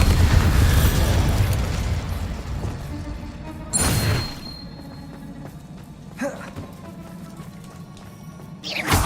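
A Bombarda blasting spell goes off in the Hogwarts Legacy video game: one loud, sharp explosive burst over a busy, rumbling game soundtrack, followed by a couple of fainter pops and impacts.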